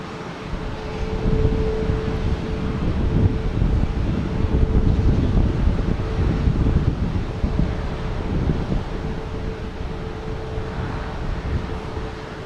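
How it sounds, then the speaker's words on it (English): Gusty wind at Boston Logan Airport buffets the microphone in a loud broadband roar that surges and fades in waves, with a faint steady hum beneath and no talk. "We got some gusty winds all of a sudden here."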